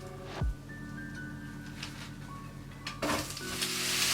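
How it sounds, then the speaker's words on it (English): Sliced leeks sauté in vegetable oil in a frying pan, giving a soft, steady sizzle with a couple of thumps and a burst of louder frying as they hit the pan, and no talking. "I've got 400 grams of sliced leeks, and we're just going to saute these off until they're nice and soft"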